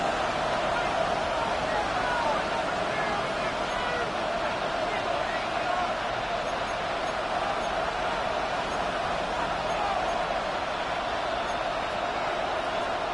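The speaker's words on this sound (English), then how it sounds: "This crowd is making it tough down deep in the red zone." Stadium crowd roaring in Madden 26 football game, Dallas Cowboys offense deep in the red zone on second and goal; a loud, steady wall of hubbub and cheering that fills the whole stretch without letting up.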